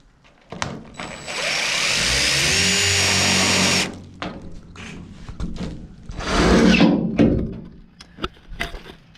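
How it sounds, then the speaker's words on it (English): A power tool drives screws to fasten a panel through pre-drilled holes on a welded aluminum import camper, giving two loud sustained whirring bursts separated by clicks and knocks, close by. "I'm just gonna screw it, fasten it through these holes right now."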